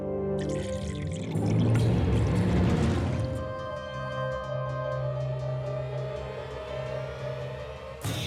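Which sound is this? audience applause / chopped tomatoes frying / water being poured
water being poured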